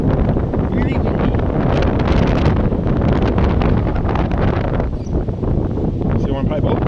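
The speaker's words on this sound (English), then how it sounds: "Really windy." Strong outdoor wind buffets the microphone in a steady, loud rumbling roar with gusty swells, nearly constant throughout and briefly easing near the end.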